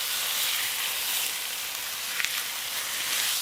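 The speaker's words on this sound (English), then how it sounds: "Add your ground beef and start breaking it down." Ground beef frying in lard or oil over medium-high heat while being broken apart in a pan, a steady close sizzle with a few faint scraping taps midway.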